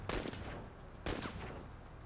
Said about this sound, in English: That's why there's so few rounds or anything being fired here.